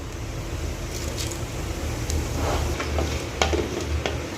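Whole spices for tempering frying in hot oil, namely bay leaf, two dried red chilies, a cinnamon stick, two cardamoms and cumin seeds. They make a loud, continuous crackling sizzle with a low rumble and occasional stirring clicks.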